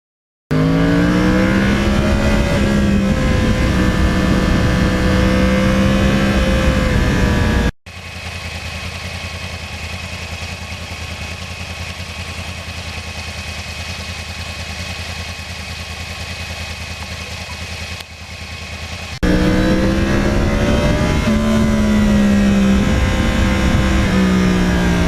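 A 2020 Yamaha R1 rides a bumpy road, its engine a steady, loud drone throughout, with a steadier, muffled stretch in the middle and sharper rising and falling pitch at the start and end.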